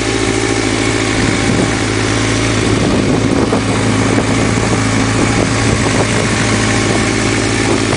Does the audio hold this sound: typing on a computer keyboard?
no